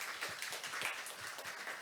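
An audience at a biotech conference session claps to welcome a speaker. The applause is steady and moderately distant, a dense wash of hand claps that holds level from start to finish with no voices over it.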